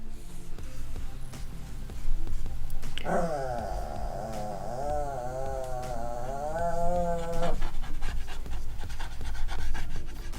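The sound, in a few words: dog panting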